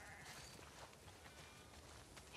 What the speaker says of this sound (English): Definitely have way too many sheep.